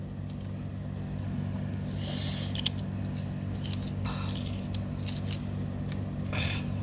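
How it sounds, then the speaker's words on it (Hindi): Tarot cards are shuffled by hand in a few short, crisp riffling bursts, soft and close, separated by quiet pauses over a low steady hum, with no talking. "लास्ट शफल, नीचे कार्ड गिर गए हैं"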